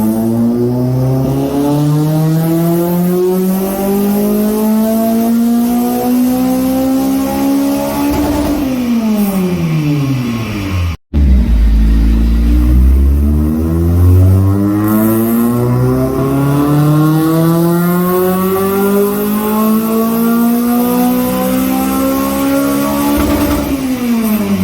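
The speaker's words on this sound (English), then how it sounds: "I'll take a clip while he does a dyno pull now." A loud Honda car engine on a dyno revs up steadily through its range, drops off, then climbs again in a long sustained pull, roaring close and alone.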